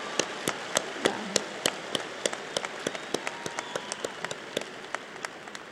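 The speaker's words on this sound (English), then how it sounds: "Now we can applaud." Audience applause at a college commencement ceremony, a steady crowd clapping with sharp individual claps standing out throughout, moderately loud and without talk.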